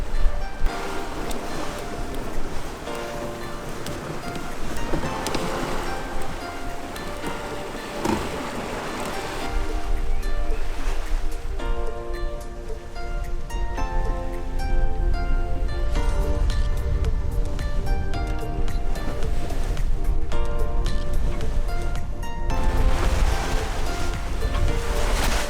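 Offshore sailboat passage from Beaufort toward Wrightsville, North Carolina, with moderate one-meter ocean waves washing steadily against the hull, mixed with continuous wind noise on the microphone and a faint musical bed throughout.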